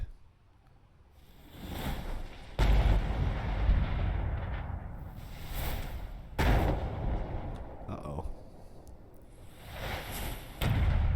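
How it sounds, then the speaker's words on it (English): Incoming artillery fire in the war game Burden of Command: several heavy booming impacts with rumbling, crackling aftermath, loud and close, spaced a couple of seconds apart. "We got artillery coming in on us"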